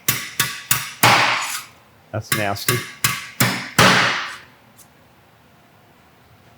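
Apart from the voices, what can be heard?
knocking out engine block galley plugs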